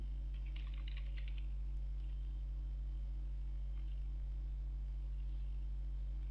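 Quick computer keyboard typing in a short burst near the start, followed by a couple of isolated key presses such as an enter key, over a steady low electrical hum, with no talking.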